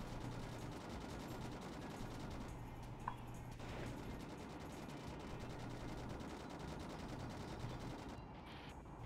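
Steady rapid gunfire in Sonic Adventure 2, a continuous dense rattle of shots at moderate level throughout with no speech.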